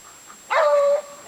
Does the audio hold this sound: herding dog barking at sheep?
yes